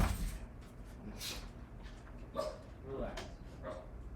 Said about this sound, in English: these dogs need to chill